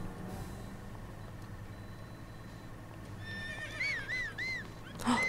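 A horse whinnies with a rising and falling neigh over a low steady background rumble in The Legend of Zelda: Breath of the Wild, followed by a short loud thump at the end.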